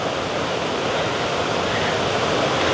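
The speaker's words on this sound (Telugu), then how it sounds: "ఈ వాటర్ ఫాల్స్ ఉన్నాయి కదా" Smokey Hollow Falls in Hamilton, Ontario pours as a steady, loud, close roar of falling water, a dense wash of noise with no talking.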